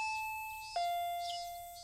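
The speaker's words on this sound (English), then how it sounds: "the doorbell rang." A two-tone ding-dong doorbell chime in the Higurashi visual novel, two clear sustained tones with the second slightly lower, ringing out cleanly over a quiet background with no voices.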